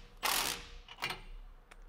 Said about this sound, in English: we're just gonna tighten it with our impact